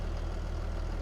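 A tractor idles in Farming Simulator 22 with a steady, low, rumbling drone and a faint regular pulse, unchanging and without voices.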